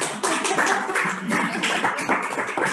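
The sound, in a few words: applause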